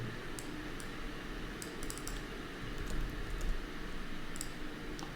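Quiet, steady tapping of a Mac computer keyboard as text is typed, with rapid clusters of soft clicks and brief pauses, close and faint in a still room.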